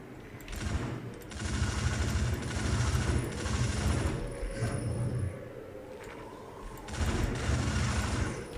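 Rapid gunfire in the video game Outcast Second Contact, sustained bursts of dense clattering shots broken by a short pause, fairly loud with game sounds behind.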